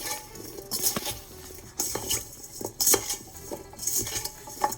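Broccoli is tossed with olive oil and red pepper flakes in a bowl, with a utensil clinking and scraping in irregular bursts and soft wet patter, close and fairly quiet, no talking.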